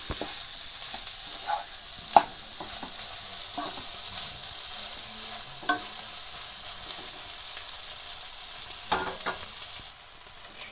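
Sliced bitter gourd frying in a pan while being mixed by hand with sambar and chili powders, a steady hiss of sizzling broken by scattered scraping and stirring knocks, close up.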